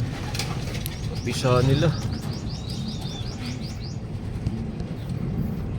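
Freshly hatched pigeon squabs in a breeding loft give a rapid run of thin, high chirps near someone talking, along with a brief low coo.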